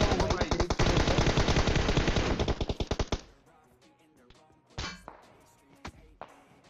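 Rapid automatic gunfire in the battle royale video game PUBG Mobile, a loud dense burst of shots for about three seconds that thins to scattered single reports and metallic clanks.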